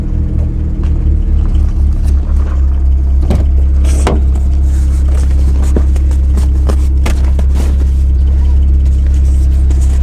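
A car engine cold-starts and settles into a loud, steady low rumble close by, with a few clunks and knocks over it.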